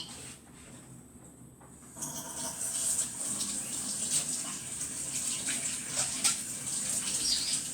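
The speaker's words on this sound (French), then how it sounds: "Alors je vais la passer sous l'eau chaude." A portion scoop is rinsed under hot running tap water: after a quiet start, a steady, close splashing gush pours for several seconds.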